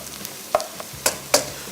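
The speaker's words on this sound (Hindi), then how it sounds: "सबसे पहला काम प्याज की फ्राइंग, इसको अच्छी तरीके से फ्राई करेंगे" Onions frying in a pan, a soft steady sizzle under a few sharp scraping stirs and clanks of a spoon against the pan, close and brief with no voices.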